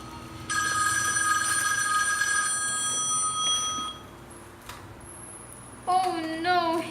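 A telephone bell rings in a long burst, then falls quiet; a voice speaks briefly near the end.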